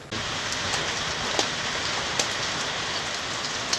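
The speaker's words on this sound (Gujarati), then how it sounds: "બપોર સુધીમાં માળિયામાં બહુ વરસાદ સારો થયો છે" Heavy rain falls steadily in Amarapur near Maliya, a continuous dense hiss of downpour with a few sharper drip impacts standing out and no voices.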